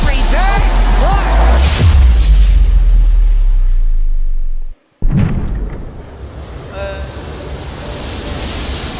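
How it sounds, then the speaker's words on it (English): A big explosion in a Minecraft event, with a loud rumbling roar that builds over several seconds and cuts off abruptly. A quieter, noisy whoosh follows. Voices talk over the start. "there's a big explosion coming"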